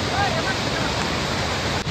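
Constant roaring rush of a nearby waterfall in heavy rain, loud and unbroken, with a faint voice barely audible beneath.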